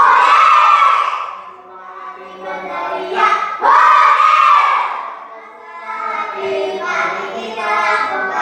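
A group of children in a classroom shout loudly together during an action song, in two or three long, swelling bursts of massed voices that rise and fade close by.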